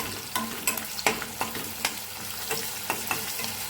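Finely chopped onion fries in a pan and is stirred until it reddens, a steady sizzle punctuated by sharp, regular spatula scrapes close by, with no voices.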